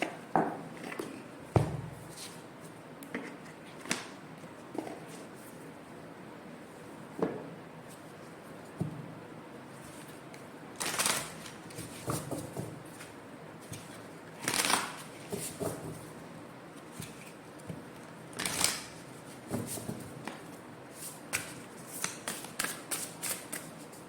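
A deck of oracle cards is shuffled by hand, with crisp riffling bursts and soft slides recurring irregularly at close range in a quiet room.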